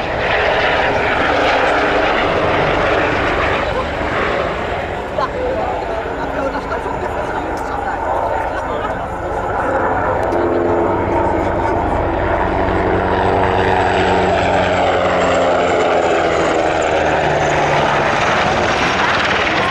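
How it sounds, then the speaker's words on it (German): Military helicopters, including a Tiger, roar loudly nearby at the ILA 2018 air show, thudding rotors and engine whine filling the air as they pass, with the pitch shifting as they move away. "With all the troops on board, the helicopters leave the area as quickly as possible."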